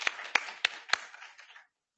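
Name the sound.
audience applause for symposium speakers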